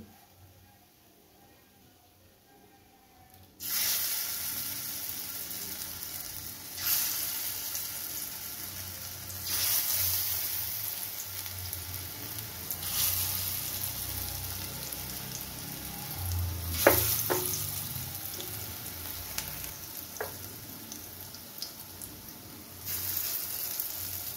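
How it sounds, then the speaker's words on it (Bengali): Oil sizzles and crackles steadily as drumstick-flower fritters fry, after a quiet start, with occasional sharper pops and a few light clinks of a utensil. "এইভাবে আমি বাকি বড়াগুলো ভেজে নিচ্ছি।"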